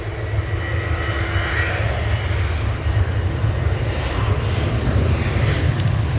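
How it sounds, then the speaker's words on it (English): Ryanair Boeing 737 departing Manchester Airport for Budapest, a steady loud jet roar with deep low rumble holding throughout, no voices. "So Ryanair 737 off to Budapest"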